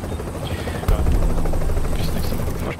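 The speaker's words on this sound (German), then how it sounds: "Der Heli fliegt in 30 Sekunden los!" A helicopter in the video game The Division throbs loudly, its rotor noise rising sharply about a second in and then holding steady, with voices talking over it.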